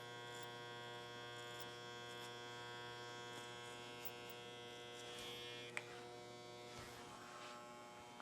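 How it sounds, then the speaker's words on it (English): Electric hair clipper running during a men's short haircut, a steady close buzzing hum throughout with a couple of faint clicks near the end. "Close the clipper blade halfway. Then close it down all the way."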